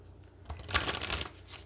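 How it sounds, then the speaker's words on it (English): A tarot card deck is shuffled once in a brief, soft riffle of flicking card edges, quiet and close with no talk. "So let's do 3 shuffles here."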